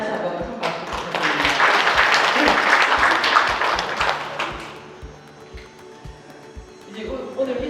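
Sustained clapping from the crowd at the Busan Art Association 80th anniversary exhibition opening, loud and full at first, then thinning out and fading as a voice begins over the last seconds.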